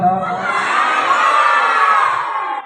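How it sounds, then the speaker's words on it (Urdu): Crowd of students and guests at an Islamic academy's half-yearly exam results ceremony in Ghorghushti loudly chanting in unison, a dense, sustained roar of voices holding steady for nearly three seconds. "بلند آواز کے ساتھ کہتے ہیں سبحان اللہ۔"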